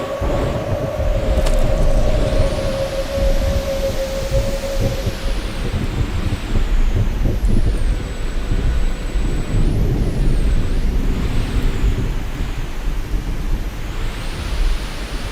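Heavy truck driving in The Infected, a foggy survival game, its steady low engine rumble and broadband road noise sustained throughout, with a brief tonal hiss early on and no talk.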